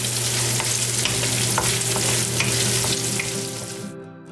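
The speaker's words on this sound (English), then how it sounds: "So now the meat has been frying for 2 or 3 minutes." Meat sizzles loudly and steadily in a hot pan, a dense crackling hiss with occasional pops, fading out toward the end.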